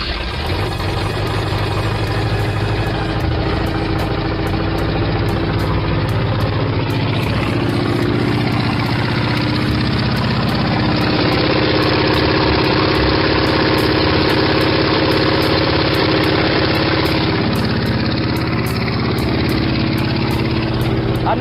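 A 1975 Ford F100 truck engine fitted with headers idles steadily and fairly loud throughout, a continuous low rumble with an even, smooth rhythm and no talking over it.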